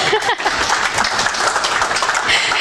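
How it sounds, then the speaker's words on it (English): Applause from an audience at the end of a technical security presentation, dense steady clapping filling the whole moment at close range, with some voices mixed underneath. "You can clap if you want."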